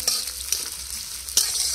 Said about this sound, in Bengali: বাড়ির নতুন রসুন, আর পেঁয়াজ কুচি দিয়ে একসাথে কষিয়ে নেব